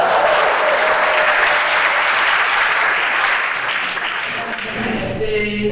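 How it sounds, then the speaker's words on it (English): Audience applause at a library distinguished speaker event, a loud, dense burst of clapping that holds steady for several seconds before tapering as a voice begins at the end. "This item deserves applause"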